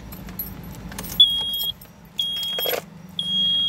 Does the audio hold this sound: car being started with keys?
yes